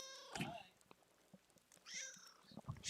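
A pet cat meows in a short harmonic cry near the start and again around two seconds, close by and fairly quiet, with a person talking softly between the calls.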